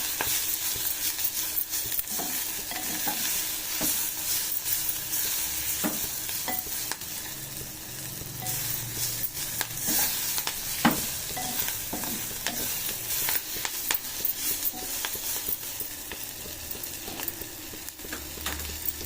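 Moringa leaves fry in a pan with moong dal, garlic and onions, a steady close sizzle broken by frequent scraping stirs of a spatula throughout.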